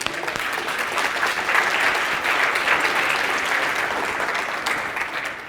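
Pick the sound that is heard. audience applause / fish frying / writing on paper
audience applause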